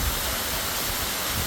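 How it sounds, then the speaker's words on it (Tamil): An unnamed waterfall near Singshore bridge in Pelling, Sikkim pours over rocks, producing a steady, full rushing roar of falling water with no other sounds. "இப்போ இந்த ஃபால்ஸ் நேராக இப்படி வந்து அருவி மாதிரி கொட்டி இங்கே கல் முள்ளாக இருக்குது."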